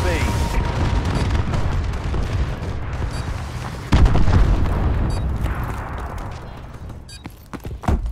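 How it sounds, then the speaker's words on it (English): Booming explosions and gunfire-like blasts from enemy missile strikes in the shooter game Call of Duty: Advanced Warfare, a dense continuous barrage with a heavy jolt midway and scattered sharp bursts near the end. "Enemy missile strikes."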